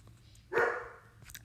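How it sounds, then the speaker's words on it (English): A single short dog bark indoors, fairly faint and set back from the microphone, with a few quieter yips around it against a low background hum. "Sorry if you can hear my dog barking."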